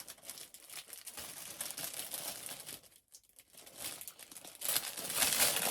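A package is opened with crinkly plastic or paper rustling in irregular bursts, briefly pausing midway and then growing louder and brighter at the end, close to the microphone.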